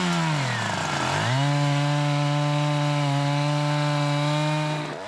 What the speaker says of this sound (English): This is the season of the chainsaw